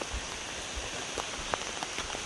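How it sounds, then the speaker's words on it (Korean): Heavy rain falls in a forest on Jeju, a dense steady hiss of drops with scattered louder splats on leaves and surfaces nearby. "비가 진짜 많이 오긴 하네요."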